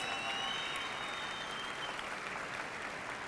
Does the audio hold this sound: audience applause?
yes